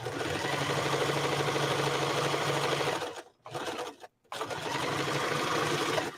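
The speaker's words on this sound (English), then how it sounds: "I bet the machine has a stretch stitch or could use a narrow zigzag." A sewing machine stitches fabric in a steady, loud continuous run, pauses twice briefly, then resumes at full pace.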